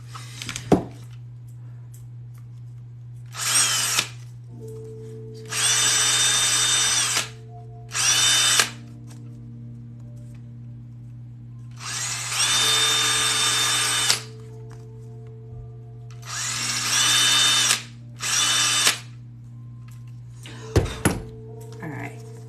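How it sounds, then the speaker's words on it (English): Several short bursts of a power drill whirring close by as it drills through rubber, starting and stopping irregularly, with a few knocks and handling clunks between them. "Drill through the rubber a little bit"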